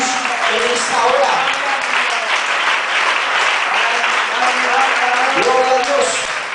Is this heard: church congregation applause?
yes